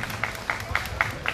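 An audience at a Sinop community association event claps in a brief, rhythmic burst, a handful of sharp, evenly spaced claps over a murmuring background.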